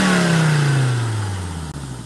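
A Volvo engine revs close by, its loud tone falling steadily as the revs drop back toward idle over about two seconds.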